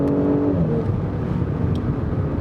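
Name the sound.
Audi S4 V6 engine and exhaust revving during manual shift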